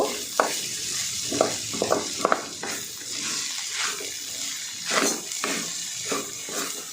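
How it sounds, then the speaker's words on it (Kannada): Soaked, drained flattened rice tossed into a pan with its tempering and stirred over a low flame for avalakki bath, giving a steady close sizzle broken by repeated scraping stirs of the spoon, with no talk. "ಉರಿನ ಕಡಿಮೆ ಇಟ್ಕೊಂಡು ಚೆನ್ನಾಗಿ ಹುರ್ಕೊಳ್ಬೇಕು"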